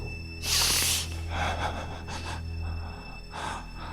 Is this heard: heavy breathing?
yes